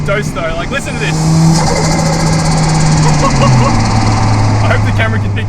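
Turbocharged Toyota Corolla with a big single turbo, its engine running loud and close with a droning tone that rises and then steps down, overlaid by whooshing and fluttering turbo noise.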